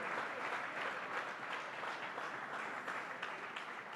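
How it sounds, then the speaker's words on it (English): A dinner crowd at a Democratic committee spring banquet in Villa Lombardi applauds the working women and men of labor, a steady, even roar of clapping that holds throughout with no talk over it. "Another round of applause for the hardworking women and men of labor."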